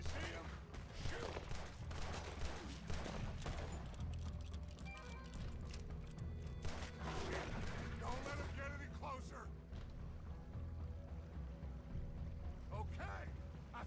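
Gunfire in the video game Red Dead Redemption 2 comes as a dense volley of rapid shots over rumbling background noise, fading to scattered bangs, with voices talking underneath.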